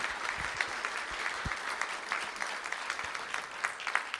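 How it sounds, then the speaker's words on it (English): Audience clapping steadily at a school board of trustees meeting, a dense room full of applause honoring a student athlete, moderately loud and continuous with scattered sharper claps. "Let's give Carter a really big round of applause."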